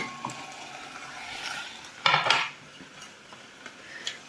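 Pasta being stirred and mixed with grated cheese in a pot, giving soft scraping and clinking of a utensil with a louder burst of stirring midway, close and quiet with no talk.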